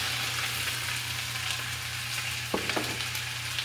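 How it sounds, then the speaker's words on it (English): Onions tipped into a hot pan, giving a close, steady sizzle over a low hum, with a couple of brief crackling bursts near the end and no voices. "we're going to add our onions. Now be careful, they're gonna splatter."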